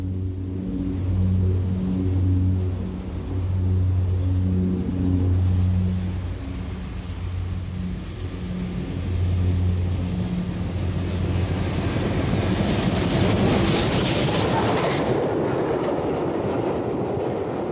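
A Southern Railway West Country class steam locomotive passes at Keighley, near the junction of a preserved line and the main line, with a steady rolling rumble that swells to a louder, closer roar toward the end.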